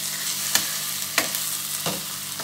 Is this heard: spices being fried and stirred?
yes